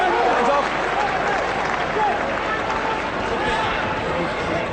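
A large rugby stadium crowd at Lansdowne Road cheers and applauds continuously, a dense roar filling the space, with voices mixed in throughout.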